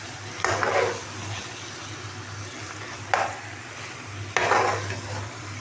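Gheeya chicken is stirred and mixed in a cooking pot over a soft background sizzle, with three distinct scraping strokes against the pot.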